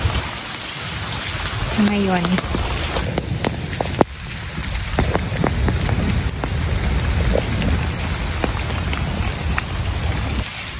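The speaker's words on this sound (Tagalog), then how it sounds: "At inabot kami ng ulan." Steady rain patters and hisses throughout, loud and close, during a mountain hike down Mt. Manabu, with a brief spoken word partway through.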